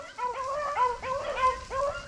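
Hounds baying on a swamp rabbit hunt, a run of repeated, rising yelps and howls from several dogs at moderate distance, steady and musical with no talk over them.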